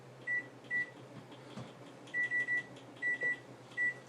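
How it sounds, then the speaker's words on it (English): An oven's electronic timer gives short, high, clean beeps as it is set, with single and paired tones in irregular clusters over a faint kitchen hum. "I'm going to set the timer"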